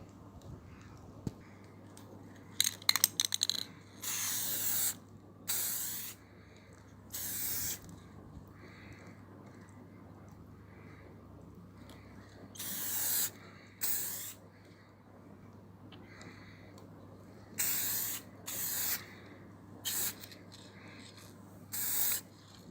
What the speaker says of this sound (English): so I'm going to spray it now,